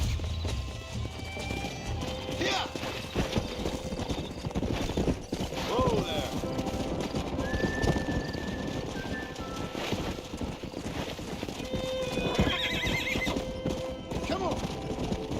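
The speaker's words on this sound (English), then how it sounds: "We got some fine horses." Horse hooves clip-clop at a walking pace while a horse neighs in the Western video game Red Dead Redemption, with people talking over the hoofbeats and other faint mechanical noises in the background.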